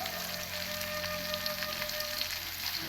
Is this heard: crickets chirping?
no